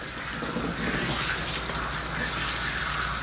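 Tap water runs in a steady, loud, unbroken gush while a pitbull is bathed, with no talking over it.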